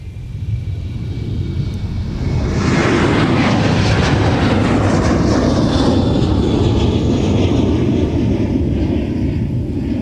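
A Delta airliner bound for Fairbanks, Alaska, roars at Minneapolis–Saint Paul airport, its engine noise rising sharply after a couple of seconds into a loud, sustained rumble that holds steady.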